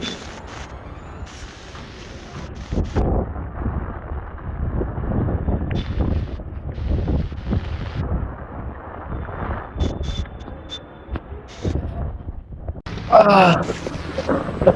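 Gusty cyclone storm wind in Khulna thumps and rushes against the microphone in uneven bursts, with a voice faintly audible underneath and a sharper gust near the end.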